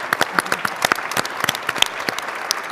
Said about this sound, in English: they deserve a round of applause for what you're doing